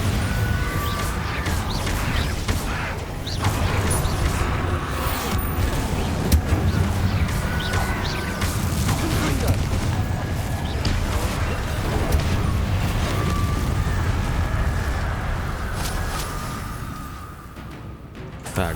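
Confringo and Bombarda blast spells in Hogwarts Legacy crash and boom in a dense, continuous barrage of impacts and rumbling, loud throughout, with a voice calling out over the chaos.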